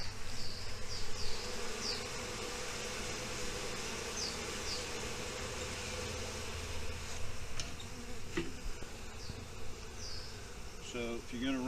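Honeybees buzz around a beehive, giving a continuous faint hum with individual bees whining past up close. Occasional handling knocks and clatter are heard, and a voice is briefly present in the background.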